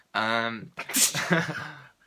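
A single sneeze with a drawn-out voiced intake, followed by a short burst of breathy vocal noise, close and fairly loud.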